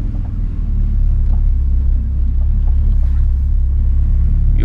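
A square-body Volkswagen Gol on 15-inch rims rolls along the road, its engine and tyres making a loud, steady low rumble heard close from inside the car.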